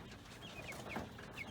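Faint, soft clucks from white silkie chickens, a few brief calls scattered over a low background hiss with no voices.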